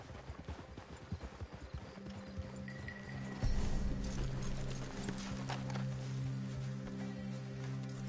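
Horse hooves clip-clop in a Red Dead video game scene as riders come to a halt, a steady rhythmic patter beneath soft ambient rustle, with a brief whinny-like tone and a heavier thud midway through.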